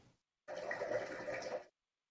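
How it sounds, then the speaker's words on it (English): A bubbling brook plays as a short recorded sound example, a brief burst of rushing, gurgling water about a second long, isolated between silences. "in order to hear this bubbling brook or somebody writing on a piece of paper"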